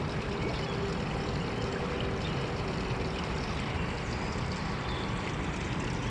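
A floating skimmer filter box on a 3500-gallon koi pond draws in water with a constant, close, broadband rushing and gurgling, steady throughout with no pauses.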